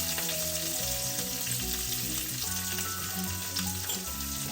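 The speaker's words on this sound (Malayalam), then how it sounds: "കുറച്ച് കറിവേപ്പില, ഒരു സവാള അരിഞ്ഞത് ഇത് ഇട്ട് കൊടുക്കാം. ഇതിന് കുറച്ചൊന്ന് വാടി വെക്കാം." Sliced onion and curry leaves fry in a pan with a dense, continuous sizzle and crackle, loud and close, with low background tones beneath and no voices.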